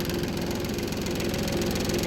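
A tractor engine runs steadily with a throbbing, knocking pulse while firewood is hauled with its bucket, loud and close, with no voices.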